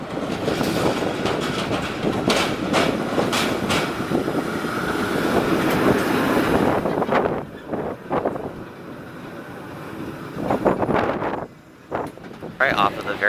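A San Francisco cable car rolls along with a loud, continuous rumble, wind noise and rhythmic clattering, then quietens into intermittent knocks and creaks near the end.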